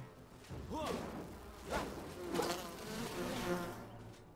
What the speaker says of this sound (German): Immer diese Bienen.